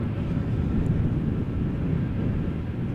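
An Airbus A321neo applies reverse thrust after landing at Amsterdam Schiphol, producing a steady, subdued low roar of engine and wind noise that stays even throughout.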